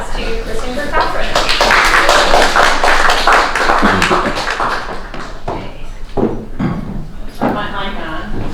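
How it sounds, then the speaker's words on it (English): An audience at a talk given by a nutritionist and dietician claps for the speaker, a loud, dense patter of many hands that thins into scattered claps and thumps, with a few voices in the room. "please give a great round of applause to Kristin Kirkpatrick"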